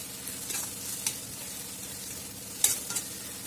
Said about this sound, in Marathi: हा ठेचा आपल्याला चांगला तेला परतून घ्यायचा आहे थोडंसं मंद गॅसमध्ये परतून घ्यायचा आहे